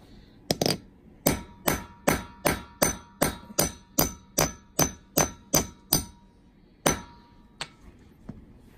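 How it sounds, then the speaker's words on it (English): Steady rhythmic hammer blows driving a metal center punch through a Texas silver quarter to make a coin ring, about fourteen sharp ringing impacts at an even pace, then a few slower, lighter taps. "drive the punch through with the hammer"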